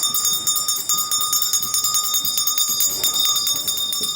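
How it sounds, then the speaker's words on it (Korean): A school bell rings steadily to mark the start of class at a nomadic Darkhad school in Mongolia, a continuous bright, metallic ringing with fast repeated strikes and sustained overtones, fairly loud throughout. "수업 시작을 알리는 종이 울립니다."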